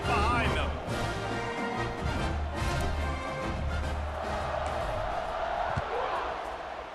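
Stadium crowd roar from EA College Football 26 ahead of a fourth-quarter kickoff, a steady loud wash of cheering throughout with a broadcast-style voice talking over it.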